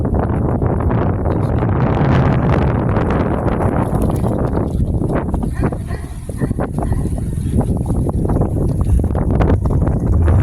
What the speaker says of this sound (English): it's a little windy. We have a bit of the noise here